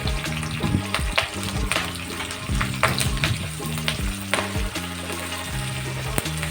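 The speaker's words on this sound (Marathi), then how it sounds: "कांदा पण आपल्याला थोडासा असं मस्त लाल सुरू होईपर्यंत त्याला परतून घ्यायचा आहे" Chopped onion frying and being stirred in a pan for Maharashtrian karela bhaji, a steady close sizzle with scraping and clinking of the spoon against the pan throughout.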